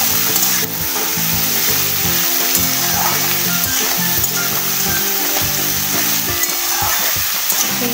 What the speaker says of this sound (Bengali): রাখা ঝিঙে আলুটা ভালো করে ভেজে নেব।